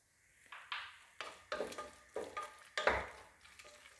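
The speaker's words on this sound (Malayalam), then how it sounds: "അപ്പോൾ അതൊന്ന് ചേർത്ത് കൊടുത്തിട്ട് ജസ്റ്റ് ഒന്ന് ഇളക്കി കൊടുക്കണം." Kashmiri chili powder is stirred into a pan with a spoon, giving quiet, close scraping strokes in an irregular rhythm over a faint sizzle, with no speech.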